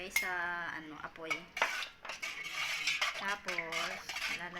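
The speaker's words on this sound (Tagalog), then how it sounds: "Ihalo-haloin muna bago ilagay sa apoy." A spoon scrapes and clinks against a pot while stirring a mixture of water, buko (coconut) juice and cornstarch for coconut ice candy, repeated metallic chinks under a person's talking.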